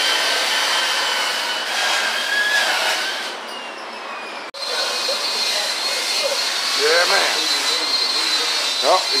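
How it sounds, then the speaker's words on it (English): A large extraction fan roars steadily while blowing burnout smoke out of a garage during a 1955 Chevy gasser build, a continuous loud rush with a brief dropout midway and faint voices in the background. "we got that big fan sucking that stuff right on out"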